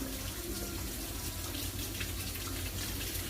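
Warm water runs steadily from a kitchen tap for pupusa dough, a continuous close rushing stream that holds even for the whole stretch with no talking over it.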